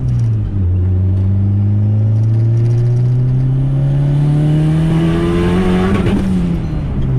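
A Honda engine running on straight E85 revs hard into VTEC, a loud, steadily rising roar close by that climbs in pitch for several seconds before easing off.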